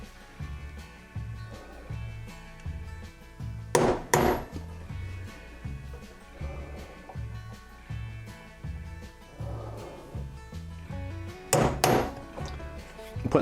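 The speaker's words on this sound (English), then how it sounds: "I'm just going to tap in a little punch hole" Two sharp metallic hammer taps on a punch, making a pilot hole for a screw, ring out well apart over quiet background music.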